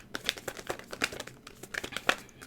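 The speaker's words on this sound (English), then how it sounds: "This deck is so hard to shuffle." A tarot deck being shuffled by hand, with close, uneven riffling and papery flicks and snaps of the cards, no talking.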